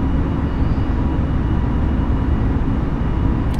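Steady, loud broadband roar of a JetBlue Airbus A320neo's engines at takeoff thrust in Microsoft Flight Simulator, a constant dense rumble filling the whole clip with no talk over it.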